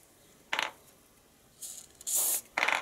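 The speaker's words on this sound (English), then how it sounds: "Let's just give these bolts some lube." Aerosol lubricant sprayed onto the bolts of a 30-year-old Klippo lawn mower, heard as several short hissing bursts of varying length, close and clear, with quiet handling in the pauses between sprays.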